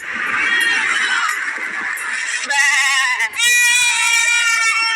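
A man sitting in a car imitates a goat with loud, wavering bleats, one long drawn-out cry followed by sharper, higher bleats after a brief break, close and dominant.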